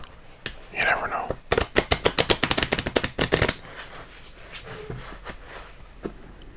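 Playing cards being shuffled on a table, a quick burst of crisp riffling flutters and snaps, close and fairly loud, with soft whispering before and after.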